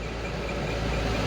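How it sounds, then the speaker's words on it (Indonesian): Loud, steady broadband rumble and road roar inside a moving vehicle's cabin while driving, continuous and close with no talk. "suara kabin itu sangat berisik ya"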